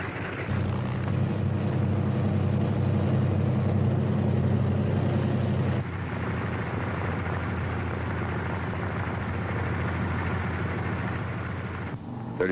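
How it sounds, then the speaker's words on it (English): Several C-47 transport aircraft taxi into takeoff position at the head of a runway before the Normandy D-Day invasion, their piston engines a loud, steady drone that shifts to a rougher roar midway and holds throughout. "other C-47s move into position for their takeoff at the head of the runway"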